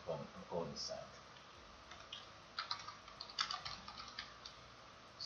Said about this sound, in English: let's start typing some code inside